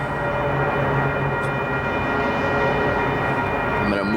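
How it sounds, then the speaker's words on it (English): A mixed freight train approaching during trackside train watching in Salt Lake City, a loud steady rumble and rolling drone with a sustained horn-like tone throughout, with no talk. "it looks like we have a mixed freight coming"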